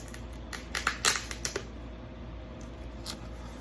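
Scissors or a blade slice through the packaging around a vinyl record, giving a quick cluster of faint snips and crinkles followed by a few softer scrapes, close and quiet with no voices.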